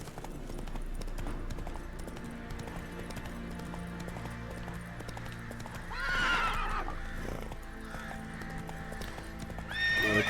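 Roach the horse gallops in The Witcher 3, with steady rhythmic hoofbeats under game music and a neigh breaking in around the middle and again at the end.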